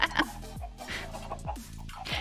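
Spider chickens in modded Minecraft clucking in short repeated bursts, several clucks spaced through the moment, moderately quiet, with no talk.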